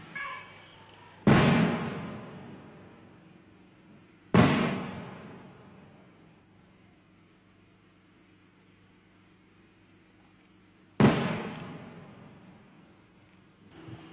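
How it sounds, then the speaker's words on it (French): Three heavy, booming artillery shots near Angkor, Cambodia, in 1970, at irregular intervals, each a sharp blast followed by a long rumbling decay, with a low steady hum underneath. "On entend un coup de feu là."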